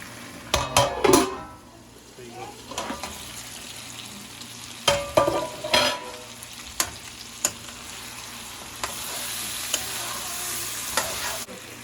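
Chicken masala curry fries in a pan with a steady soft sizzle, while a utensil scrapes and clatters against the pan in several brief bursts, close by, with no talking.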